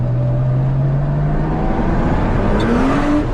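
A 1974 Porsche 911 Carrera turbo engine with a ruined transmission pulls hard under boost, a loud, close, continuous roar whose pitch climbs steadily as it accelerates, with no voices over it.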